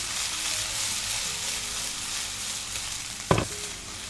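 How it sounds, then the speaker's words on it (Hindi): Vegetables sautéing in ghee over high heat, a continuous moderate sizzle with one brief clunk of a utensil near the end. "जब हाई हीट में हम घी में सब्जियों को सौटे करेंगे"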